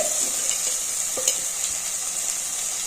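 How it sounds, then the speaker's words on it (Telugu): Fried onions with turmeric and chili powder sizzle loudly in a pan, with a steady hiss and a few soft stirring clinks close by. "కొద్దిగా పసుపు పచ్చికారం అండి వేసి కలుపుకోవాలి"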